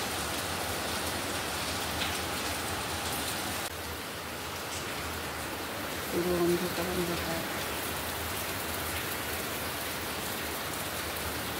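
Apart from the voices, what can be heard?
heavy rain falling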